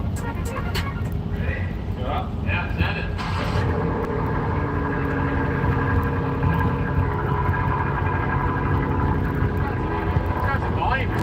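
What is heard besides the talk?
car revving with new AWE Track exhaust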